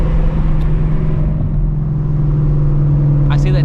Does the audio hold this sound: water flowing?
no